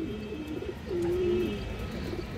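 A pigeon in a 24-inch cage gives one drawn-out, rolling coo up close, framed by shorter soft coos, with almost no other sound.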